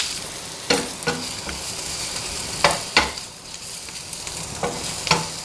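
Capsicum, green with yellow and red bell peppers, sautéing in a pan, continuous sizzle punctuated by several distinct scraping and tossing stirs at irregular intervals, with no talking.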